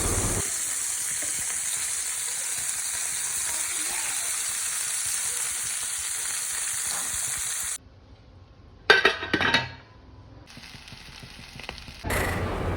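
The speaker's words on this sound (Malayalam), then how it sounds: "അപ്പോൾ ഞാൻ മീൻ പൊരിക്കാനായിട്ട് നിന്നു." Fish fries in a pan on a home stove, a steady close sizzle that drops away for a few seconds, then returns with brief spatters and clatter.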